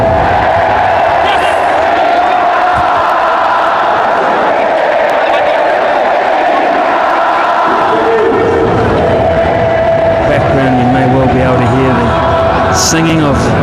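A large, loyal cricket crowd sings and cheers after the winning runs, a broad, continuous roar with a chant rising in the latter half and a presenter talking over it.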